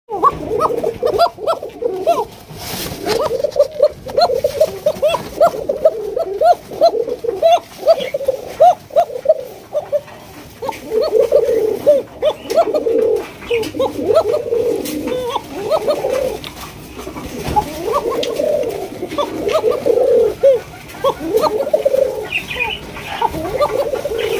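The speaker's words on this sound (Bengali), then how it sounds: "আমরা এক এক করে পাখি এবং কবুতরগুলো দেখাবো" Pigeons at a pigeon farm coo in repeated soft, throaty bursts close by, the calls overlapping almost continuously, with a faint bark and some distant voices behind.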